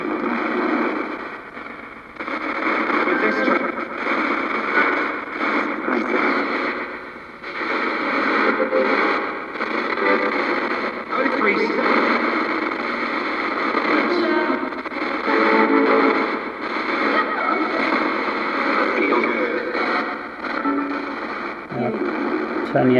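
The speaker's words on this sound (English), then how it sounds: "So you can hear I've got the echo effect, so I'm going to change the effects so you can hear the full range." A servo-driven ghost box radio sweeps continuously through stations with a heavy echo effect, making a dense, distorted wash of chopped static and radio fragments that stays loud and unbroken throughout.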